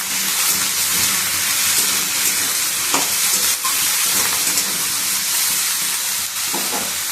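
Ridge gourd, potato and eggplant sizzle with fried onion in a pan, a steady loud hiss of frying that continues unbroken throughout, with faint clinks and stirring sounds.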